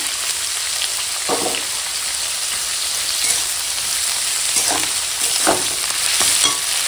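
Cut pumpkin and papaya stir-fried with ground spice paste, a constant bright sizzle broken by several scraping stirs of a spatula, close and with no talk.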